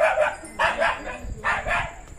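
A dog on a farm barks in three quick, loud bursts close by, with short pauses between them.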